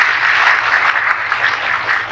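A seated audience at a Brahma Kumaris spiritual session claps together in a brisk, dense burst, loud and close, with no talking over it.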